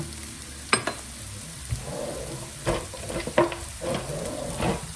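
Quiet sizzling and crackling of pressed tofu frying in a pan, with occasional clinks and scraping, no voices.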